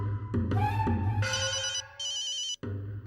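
A phone rings with a bright electronic ringtone melody, loud and close, playing alone for about three seconds with a brief gap near the end.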